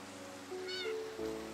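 A Minecraft cat gives a couple of short, soft meows in quick succession over a low, steady game ambience.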